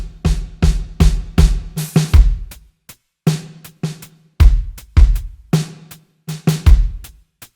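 Layered drum hits punch in a quick build of kick and snare strikes that leads into a groove for a song, sharp and close with brief gaps between phrases.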